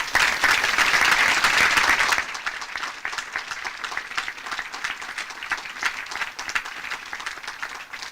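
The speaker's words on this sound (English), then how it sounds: "please join me in giving our awardees a final round of applause" An audience at a military graduation ceremony gives awardees sustained applause, dense clapping that starts loud and then thins to a steadier, softer patter.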